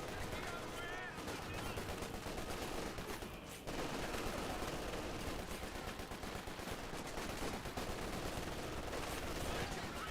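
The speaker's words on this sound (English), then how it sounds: "Rifle grenade fired." Rifle grenade fire in Company of Heroes 2, set against dense, continuous battle noise of gunfire and explosions, with a sharp burst and dropout partway through.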